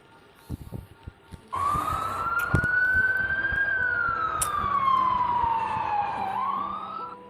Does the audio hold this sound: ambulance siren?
yes